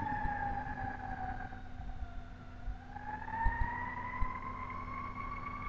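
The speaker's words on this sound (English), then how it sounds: "there's like a siren going on" An emergency siren sounds outside, heard indoors as a faint, steady wailing tone that slowly dips and rises again, with only light background noise and no talking.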